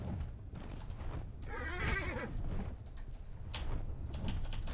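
A lightning-elemental pegasus in ARK: Ragnarok whinnies with a wavering, rising-and-falling neigh over continuous game ambience, with a few clip-clop and knocking sounds around it.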